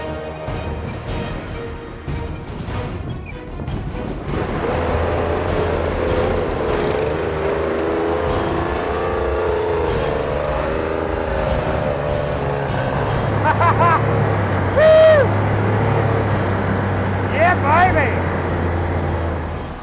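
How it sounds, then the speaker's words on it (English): A heavy wartime tank's engine labours up hills in a loud, continuous low drone with grinding mechanical noise, and voices can be heard over it. "The poor engine is really working hard because these things weigh so much."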